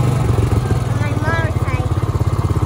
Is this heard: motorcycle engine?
yes